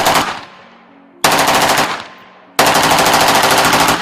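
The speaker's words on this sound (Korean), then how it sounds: "조우와 조직원들이 룸 안에 AK-47을 난사하자" AK-47 rifle firing on full automatic inside a room, loud sustained bursts of rapid gunfire in three volleys, each decaying into echo before the next burst slams in.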